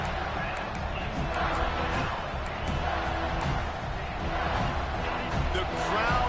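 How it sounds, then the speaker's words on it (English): Dense football stadium crowd roars steadily with rising energy on a big third down, a broad sustained wash of cheering with no clear break, loud and continuous throughout. "The crowd elevating its energy, willing this defense to get a stop on this big 3rd down."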